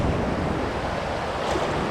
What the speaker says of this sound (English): Wait for these waves to die down a little bit.